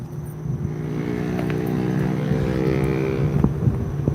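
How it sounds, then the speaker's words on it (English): Cars pass by on a windy roadside at the Pali, making a loud, continuous engine and tire rumble close by with a steady drone and faint knocks, no voices. "But cars are loud."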